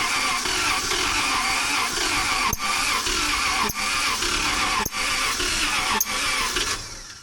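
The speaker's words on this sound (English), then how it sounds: "It's making combustion in some of the cylinders" A 1947 Cadillac engine cranks and sputters with its wiring in the wrong firing order, a loud steady churning broken by sharp pops about every second, fading as it dies out at the end.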